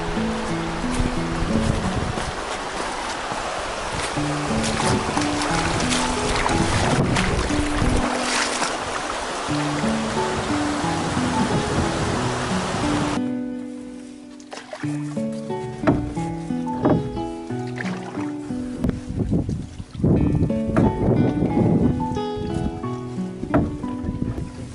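A canoe moves along the Nipissing River with steady water wash and occasional paddle splashes, plus wind across the surface and no voices.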